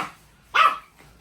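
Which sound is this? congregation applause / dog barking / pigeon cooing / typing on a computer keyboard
dog barking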